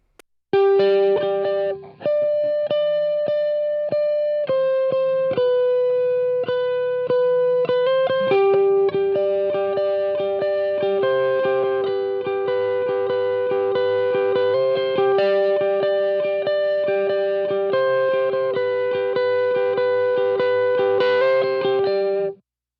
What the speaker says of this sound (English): when you start adding distortion, things start to happen with the harmonics